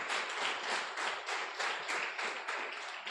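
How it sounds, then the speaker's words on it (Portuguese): A church congregation claps together during an evening Sunday service, dense steady applause with rhythmic pulses, heard at moderate distance and filling the room without talk over it. "Se você ficou feliz nessa noite, você pode aplaudir ao Senhor."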